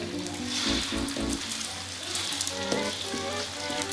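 An omelette fries in a pan with a close, continuous sizzle and crackle, briefly swelling in a few soft bursts early on, with no voices over it.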